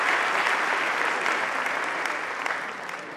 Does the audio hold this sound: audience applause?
yes